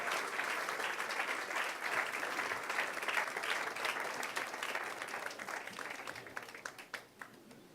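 A church congregation claps and applauds steadily throughout, a dense, sustained wash of many hands that thins slightly toward the end, with no speech over it.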